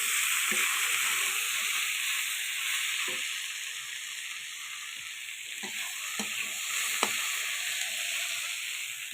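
Steady frying hiss of vegetables (potato, kundru, eggplant) being lightly sautéed in a pan, with occasional soft scrapes and stirring clicks from a spoon, close and continuous with no talking.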